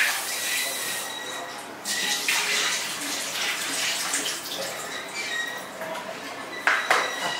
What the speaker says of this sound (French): je vais repasser mon poisson sous l'eau.